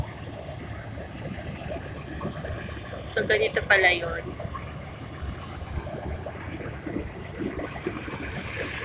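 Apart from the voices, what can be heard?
seashore waves near the Mall of Asia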